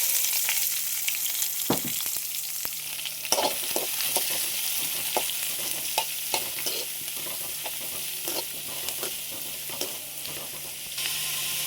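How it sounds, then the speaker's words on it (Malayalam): Chopped onion sautéing in a pan after mustard seeds and curry leaves, a steady close sizzle with regular spoon scrapes and taps against the pan. "നമുക്ക് അരിഞ്ഞ് വെച്ചിരിക്കുന്ന ഉള്ളിയും കൂടെ ഇട്ടൊന്ന് വഴറ്റിയെടുക്കാം"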